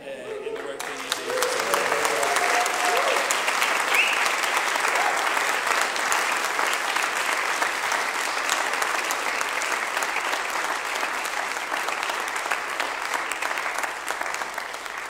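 A church congregation at a Baptist evening service bursts into sustained applause, starting abruptly after a brief quiet moment and holding as a steady, dense wash of clapping from many hands throughout.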